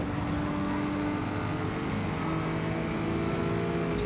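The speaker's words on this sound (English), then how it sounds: "Just listen to the sound of that car." A race car engine in Gran Turismo 7 screams at high revs, a steady loud whine with shifting pitch as it drives on, no voices.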